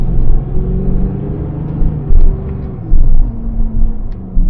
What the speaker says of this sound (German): Aber jetzt mache ich jetzt Kickdown, jetzt achtet mal.